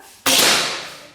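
A single sharp, loud shot from a PCP air rifle, a Predator 38, cracks out suddenly, then a hissing burst fades gradually.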